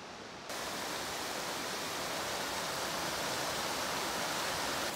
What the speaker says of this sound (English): taking a break at this little unnamed creek and waterfall